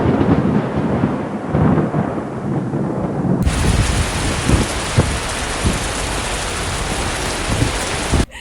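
Heavy rain pours down during a night-time storm, with a steady dense patter and a few rumbles of thunder, continuous and close with no talking.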